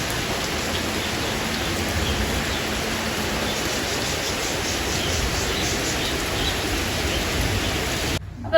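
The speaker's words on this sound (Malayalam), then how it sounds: "ഇപ്പൊ നല്ല മഴയായി." Heavy rain pours steadily, a dense unbroken wash of drops hitting surfaces close by that holds even and loud throughout before a brief break at the end.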